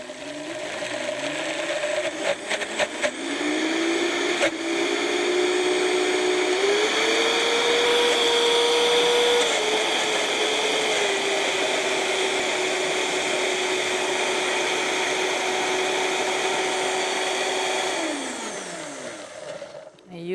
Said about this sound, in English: And we'll start this blender.